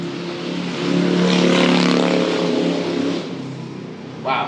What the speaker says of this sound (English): Wow, that was a annoyingly loud motorcycle.